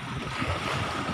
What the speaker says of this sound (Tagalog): Kasi lakas ng alon, eh.